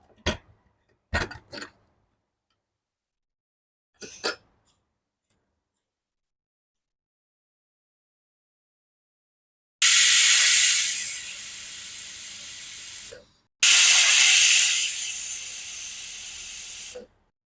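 A pressure cooker holding a green peanut curry, lid locked, lets out two loud, steady bursts of hissing steam, each a few seconds long, after a few sharp clicks and knocks.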